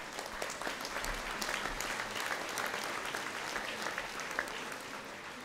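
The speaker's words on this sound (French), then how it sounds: "On peut l'applaudir." Steady audience applause fills a civic New Year's greetings ceremony for the Melun Val de Seine urban community, a dense, even clapping from a sizeable crowd that holds at a constant level throughout with no speech over it.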